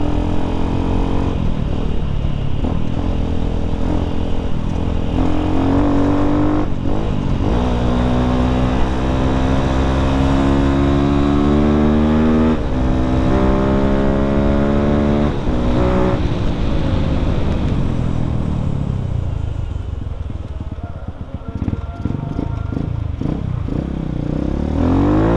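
A Yamaha Vixion converted to supermoto is ridden with its engine close and loud throughout, revving and shifting through rising and falling pitch sweeps before easing off toward the end.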